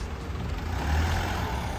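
A bus pulls up to a stop on a South Korean street, its engine rumbling low and steady against broadband traffic noise, with no talk.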